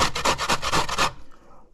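Coconut scraped on a medium-size grater: a quick run of about nine rhythmic rasping strokes, close and crisp, then stopping abruptly.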